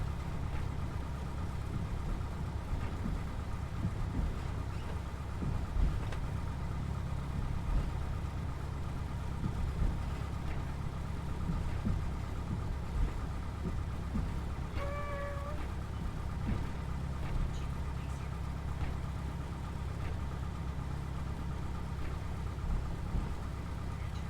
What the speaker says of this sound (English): Hear that engine a little bit.